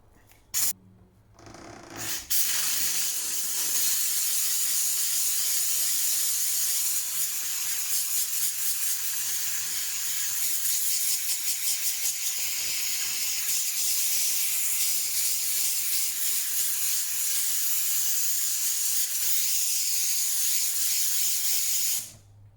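A Kärcher KST 2 steam cleaner hisses in one loud, steady jet of steam that runs nearly unbroken for about twenty seconds after a couple of short bursts at the start.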